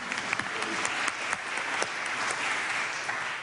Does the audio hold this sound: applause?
yes